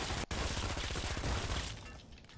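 Turret gunfire in the video game Fallout 3/New Vegas, a dense rapid burst of shots that fills the clip loudly and then tails off.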